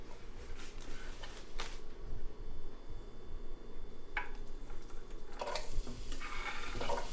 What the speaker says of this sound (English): getting lots of good fat in there to fry this up in